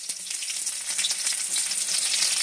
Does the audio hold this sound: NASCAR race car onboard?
no